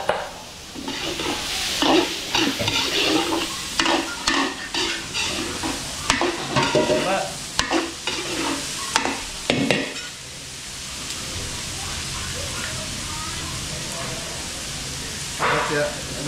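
Garlic, onion and ginger sauté in cooking oil for a large catering batch, giving a loud sizzle and repeated scraping stirs. A person talks over the first part, and then the frying continues alone.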